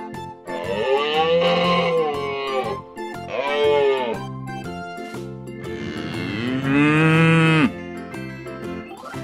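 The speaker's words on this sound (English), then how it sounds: "Cow." A cow moos three times in close succession, long loud bellowing calls with rising and falling pitch, each separated by a short pause.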